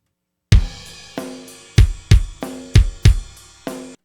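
Drum track with its kick drum replaced by a sample: punchy, booming kick hits mixed with crisp cymbal-like and tonal drum strikes in an uneven groove, about eight sharp attacks that each decay quickly, close and loud with no talking.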